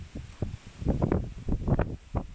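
Strong wind gusts buffet the microphone on a high hilltop in Djurgården, Stockholm, roaring and rustling in uneven loud surges with no talking.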